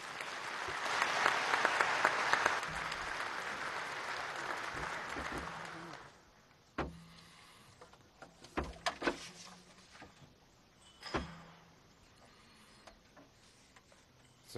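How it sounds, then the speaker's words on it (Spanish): Strong applause at the 2015 CELAC summit in China greets President Xi Jinping, a dense wash of many hands for about six seconds that then dies away to scattered faint knocks and shuffles. "Con fuertes aplausos, por favor, invitamos al presidente Xi Jinping a hacer un discurso."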